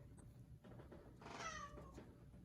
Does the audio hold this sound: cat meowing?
yes